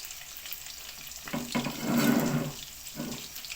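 Chicken sizzles in a pan as tomato masala is tipped in, a wet rushing and bubbling swell in the middle that eases off, with faint stirring clatter around it; no talk.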